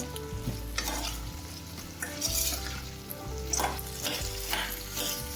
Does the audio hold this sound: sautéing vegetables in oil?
yes